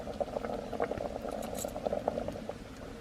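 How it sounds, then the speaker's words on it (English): Spicy Mexican beans bubble steadily in an Instant Pot on a medium setting, a continuous soft blip-and-pop simmer with small irregular bursts, close and fairly quiet, with no voices. "See how much it's bubbling?"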